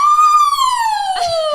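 A human voice imitates an ambulance siren: one sustained, close, loud wail that rises slightly and then slides slowly downward, followed by a short breathy sound at the end.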